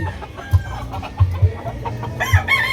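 Fighting cocks of a classic bloodline in Tanza, Cavite cluck in a few sharp, punchy bursts spread over a steady low background hum, fairly close and moderately loud.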